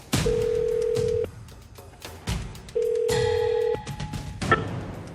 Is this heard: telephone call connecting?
yes